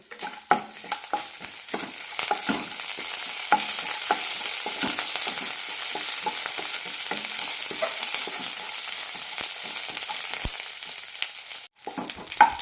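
Garlic, red chillies and curry leaves fry in coconut oil with a steady, close sizzle and occasional stirring clicks, continuous for several seconds without speech.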